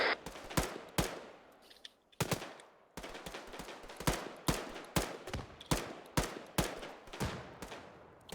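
Arma 3 gunfire rings out as a series of sharp, loud reports, some in quick pairs and others spaced apart, each with a decaying echo tail and short pauses between volleys.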